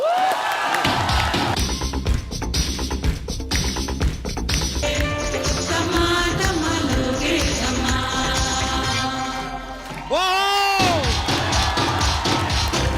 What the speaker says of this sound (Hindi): जोरदार तालियां अनुराधा जी के लिए